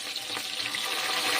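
Tomatoes drop into hot mustard oil with chillies and sizzle steadily, a soft, continuous hiss of frying at moderate distance with no talking.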